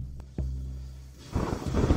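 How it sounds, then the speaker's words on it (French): Thunder during a thunderstorm: two sharp low thumps, then a swelling rumble that grows loud and dense toward the end, with no talk over it. "Il y a de l'orage, Quinquin"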